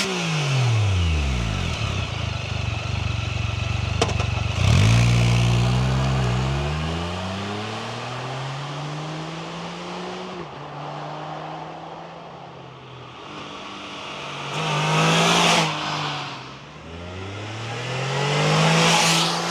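A 2025 BRP Can-Am Spyder RT three-wheeled motorcycle with a 115 hp engine idles and revs repeatedly, its pitch rising and falling through several close, loud throttle blips.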